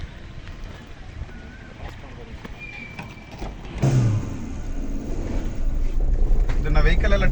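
A 2022 Maruti Suzuki Eeco van, a single-owner used vehicle, sets off on a test drive, its engine rising steadily in loudness as it pulls away, with cabin noise and a voice talking over it.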